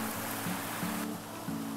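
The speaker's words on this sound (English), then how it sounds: "this is a better, clearer view of the creek and some of the rapids that are running along" Mountain creek rapids rush steadily near a small waterfall on a Virginia stretch of the Appalachian Trail, a constant close broadband water roar with a low tonal hum underneath and no voices.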